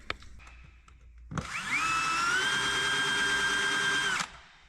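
DeWalt drill whining steadily at full speed for about three seconds while working on broken bolts in a tractor collar, spinning up sharply and cutting off abruptly, with a short quieter lead-in beforehand.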